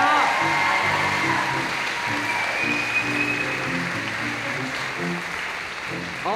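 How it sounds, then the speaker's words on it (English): Audience applause at a high school choir holiday concert, steady sustained clapping from a large crowd that continues evenly throughout. "Let's give another round of applause for coming out."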